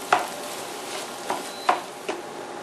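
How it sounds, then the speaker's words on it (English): Lean ground beef and onion browning in a pan, a soft steady sizzle with a few sharp scrapes and clicks of a spatula at irregular intervals. "I'm going to brown my ground beef along with the onion"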